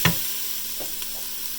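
Garlic, thyme and oregano sauté in a hot pan, giving a close, steady hiss of frying. A single stir or scrape marks the start, with faint taps after it, and there is no talk.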